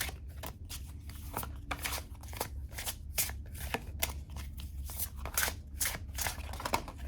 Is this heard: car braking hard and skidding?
no